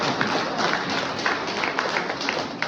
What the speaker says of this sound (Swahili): Makofi kwa Mungu